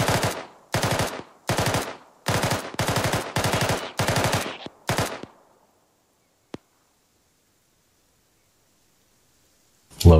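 Machine gun fire in a military game engagement: several sharp, loud bursts of rapid shots with brief gaps over the first five seconds, then a single crack, a long silence, and a final burst at the end.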